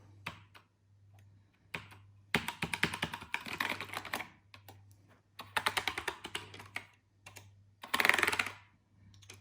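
Typing on a worn Apple Adjustable Keyboard with a loose key, close-up clattering keystrokes in quick bursts separated by short pauses, over a faint low electrical hum.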